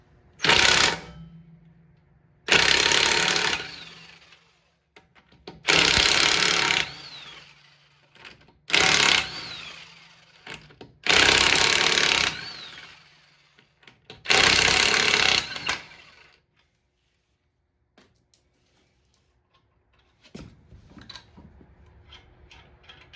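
Impact wrench taking the 3/4-inch lug nuts off a 2008 Ford Edge during a brake job, six loud separate bursts of whirring and hammering with short pauses between them, then quieter handling noises toward the end.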